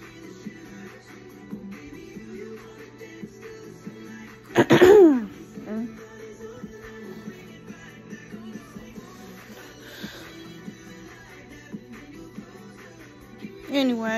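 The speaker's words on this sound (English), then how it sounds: "Something here in this room is making me cough, and I don't know what it is." Someone in a room gives a sudden cough with throat clearing about a third of the way in. Quieter throat noises follow over a faint, steady background hum.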